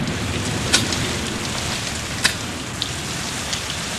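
Heavy rain falls in a scene from the TV western Lonesome Dove, a constant loud wash of drops with a couple of sharp crackling splashes standing out; no voices.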